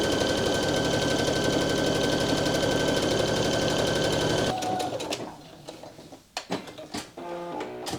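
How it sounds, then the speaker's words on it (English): A sewing machine stitches a trouser inseam at a 5/8 inch seam allowance, running loud and steady for about four seconds before stopping, followed by quieter handling clicks and fabric rustles. "we're going to sew that with a 5/8 of an inch seam allowance"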